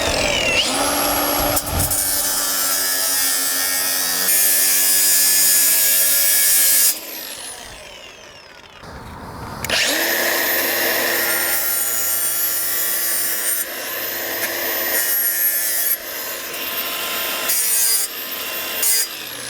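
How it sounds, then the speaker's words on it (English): A power tool grinds burrs off freshly cut steel edges during a horse trailer bar build, a loud continuous whine that stops and restarts after a short pause, running alone without talk. "Just getting off those burrs, because when you cut the steel you make a really sharp edge"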